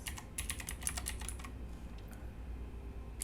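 Rapid clicking of a computer keyboard while a Visual Studio Code setup is done, with a quick run of close keystrokes that thins to a few scattered taps, alone without talk.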